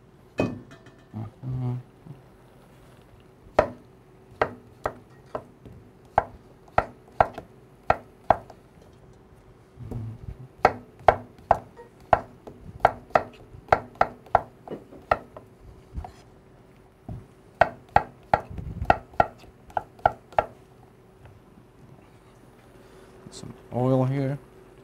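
Knife chopping hot boiled potatoes in a bowl for German potato salad, a run of sharp, close cuts in irregular bursts with short pauses, while a voice talks now and then over a low steady hum.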